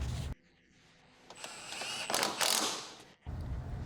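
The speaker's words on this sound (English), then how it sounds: "Now reinstall the 10mm bolt holding in the lower cowl." A ratchet turns to tighten a 10mm bolt on the lower cowl of a 2012-2013 Ford Focus, with close mechanical clicking and whirring swelling into a brief louder burst of rasping.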